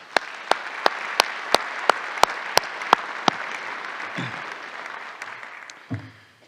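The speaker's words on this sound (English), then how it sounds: "Let's give them a round of applause, please." Audience applause at a speaker-series evening at a university center, a steady clapping crowd over several seconds with loud sharp claps punctuating it, fading out near the end as a voice begins.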